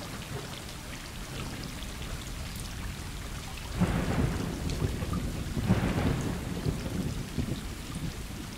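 Heavy rain hisses steadily in the game Stray, broken by two low rumbles of thunder a couple of seconds apart, moderately loud with no talk over it.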